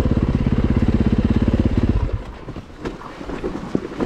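Yamaha WR450 dirt bike on a slippery hillside, its engine chugging in a loud, fast, pulsing beat up close, then dropping away into wind buffeting and scattered knocks.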